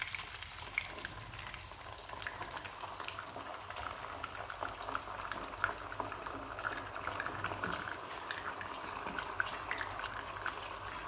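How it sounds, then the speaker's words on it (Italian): Vegetable broth simmers and sizzles in a pan with sea bream, a steady soft bubbling and crackling hiss throughout, close and fairly quiet, with no talking. "io aggiungo mezzo bicchiere di brodo vegetale"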